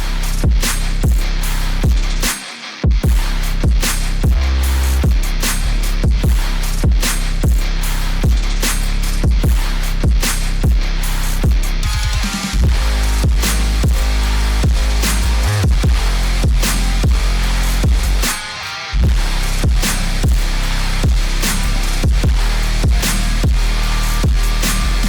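A finished trap metal track plays loud and dense, with heavy booming bass, hard rhythmic hits and distorted layers, briefly dropping out near the three- and nineteen-second marks before slamming back in.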